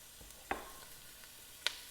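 Onions sizzle softly in a pan over medium heat while cooking beef barbacoa, a faint steady hiss with two sharp clinks of a utensil against the pan.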